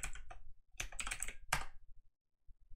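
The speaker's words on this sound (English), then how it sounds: "by double clicking it and pressing and holding down control and pressing RR" Keyboard key presses in Visual Studio on a computer, a quick burst of several clicks followed by a pause and a few more faint taps, close and quiet with no talking.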